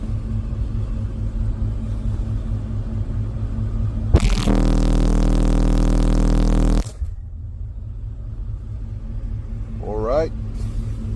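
A 40 Hz bass test tone played through Fi HC18 subwoofers on two Taramps Smart 8K amplifiers. It cuts in as a loud, rattling, sustained boom for about two and a half seconds, then stops abruptly against a quieter background rumble.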